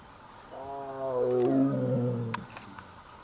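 A tiger lets out one deep, drawn-out roar that rises and fades over about two seconds, close and fairly loud, followed by a few faint clicks.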